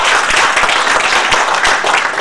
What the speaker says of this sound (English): So please put a big round of applause to him.